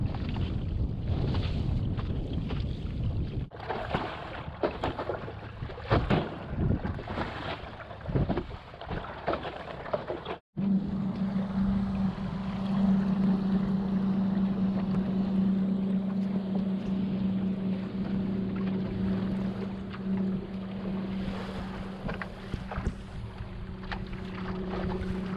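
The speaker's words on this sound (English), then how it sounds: "Moving pretty good now. Steady wind." Steady wind rushing past a small Snark sailboat under way, a continuous broadband wash with a low droning hum joining partway through, no talk.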